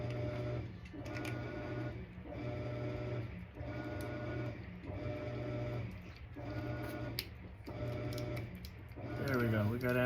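A Shimano fishing reel's rotor turns with a steady mechanical whir and repeated rhythmic clicking from its anti-reverse, close up, with a brief rattling burst near the end.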